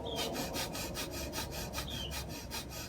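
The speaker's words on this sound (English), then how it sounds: "Bellows breath is a forced exhale and a forced inhale." Bellows breath, a yoga breathing exercise of forced exhales and forced inhales, sounds as a steady train of quick, even, rasping breaths, about four per second, close and alone.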